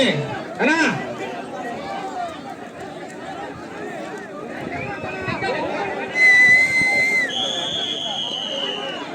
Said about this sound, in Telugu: విజిల్ కొట్టాము